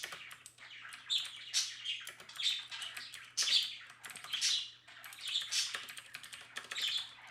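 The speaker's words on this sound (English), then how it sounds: "I wish my birds would shut the fuck up." Pet birds chirp indoors in short bright bursts roughly every second, mixed with steady computer keyboard typing in a quiet room.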